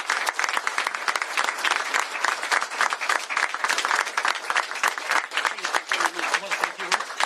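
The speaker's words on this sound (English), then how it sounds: "So please give her a huge round of applause as I signed it." Sustained audience applause at a governor's bill signing, many hands clapping steadily and loudly for several seconds with a dense, even crowd texture throughout.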